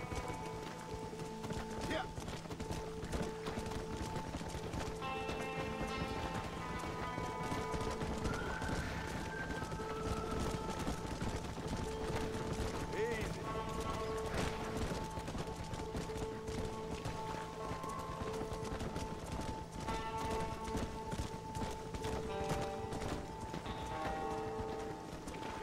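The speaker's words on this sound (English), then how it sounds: "They're spooked! We have to stop the stampeding!" Stampeding cattle in the Western video game Red Dead Redemption 2, a dense continuous clatter of many hooves pounding steadily throughout, with occasional animal calls and a faint hum under the rumble.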